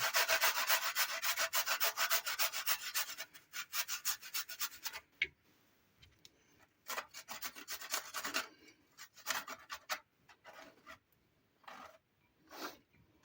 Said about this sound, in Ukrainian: на мелку тюрку ось такі зубчики ми беремо і натираємо цю часничинку